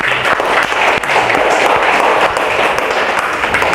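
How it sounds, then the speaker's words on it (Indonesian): A classroom audience applauds together after a student's presentation, a loud, dense wash of clapping that carries on steadily throughout. "Kasih aplaus untuk Amanda ya."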